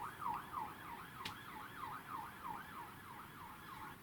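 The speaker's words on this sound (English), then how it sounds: "There were police sirens and they were ruining my video." A UK police siren wails, rising and falling repeatedly, fairly distant and faint, over low traffic rumble; no talking.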